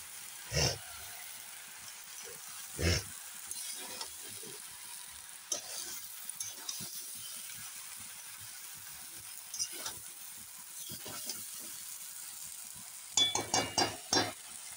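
Vegetable curry being stirred in a pan on a gas stove, with a quiet sizzle and occasional spoon clinks and scrapes against the pan, a few sharper knocks near the end.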